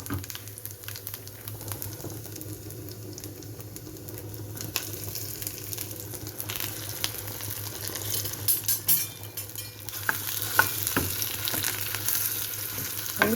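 Mustard seeds, cumin, dried chillies and a little dal frying in hot oil while making aloo paratha, a steady sizzle with occasional stirring scrapes and brief crackles throughout.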